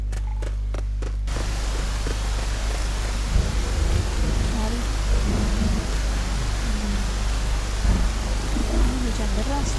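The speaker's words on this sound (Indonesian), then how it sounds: "Hujan deras loh." Heavy rain pours outdoors around an apartment building as a steady, dense hiss with no pauses, and voices sound faintly beneath it.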